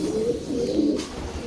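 Domestic racing pigeon cooing in a loft, a steady low murmuring coo held close for the whole moment with no talk over it.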